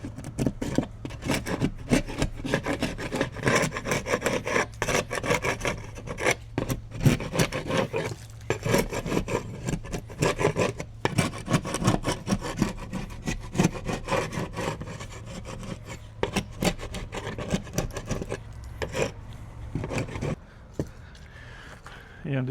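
Old paint being scraped off wood to prep it for repainting: a long run of rapid, rasping scraper strokes, close and fairly loud, continuing steadily for about twenty seconds before stopping.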